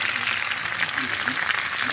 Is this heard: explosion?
no